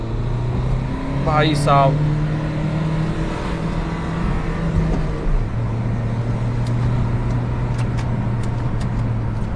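An SUV with a 6-speed gearbox is revved while driving, its engine giving a steady low drone that surges and shifts in pitch, with a voice talking briefly over it.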